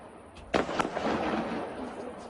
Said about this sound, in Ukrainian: кількаметрові іскри від феєрверка та гучні вибухи.